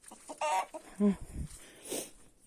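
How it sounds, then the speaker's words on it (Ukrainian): Bantam roosters cluck and call close by while courting hens, short throaty bursts with a higher squawk, scattered over a couple of seconds with faint background noise. "О, бачите, півники грають."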